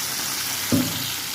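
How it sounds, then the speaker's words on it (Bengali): Spice paste of ground onion, garlic and green chilli goes into hot oil in a pan, giving a sudden sizzle that rises briefly and then settles into a low, steady frying hiss. "এবার এই যে মশলাটা দিয়ে দেবো।"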